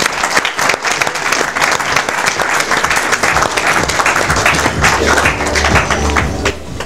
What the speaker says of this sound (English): Ladies and gentlemen, put your hands together for him.